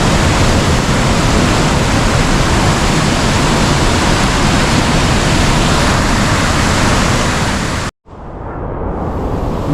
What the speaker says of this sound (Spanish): Mirad, agua por todos lados.